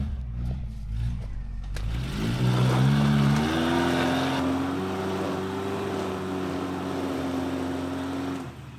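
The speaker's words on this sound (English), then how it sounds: "Now we got Will in the 4Runner coming up next." A Toyota 4Runner without lockers climbs an off-road obstacle, its engine revving up steadily and holding a loud, rising drone close by.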